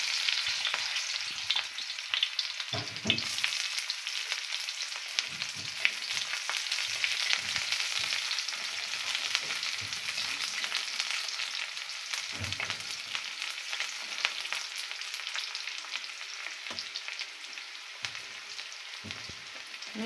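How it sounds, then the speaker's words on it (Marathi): Chopped onion and cumin seeds frying in hot oil, a loud continuous sizzle with crackling spits and occasional stirring scrapes, close up and alone without speech. "तेल त्याच्यात ना कापलेला कांदा टाकून घेऊ"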